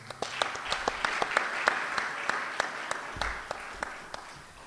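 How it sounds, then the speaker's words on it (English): Audience applause at a satsang gathering in a Sri Sarada Devi ashram, honoring pupils, with scattered individual claps standing out over a steady patter of hands, moderately loud and fairly close. "Let us give them a hearty round of applause."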